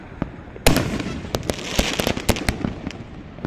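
Fireworks burst at a city-wide firework show in a rapid volley of loud booms and crackling pops, one heavy blast followed by many overlapping sharp reports.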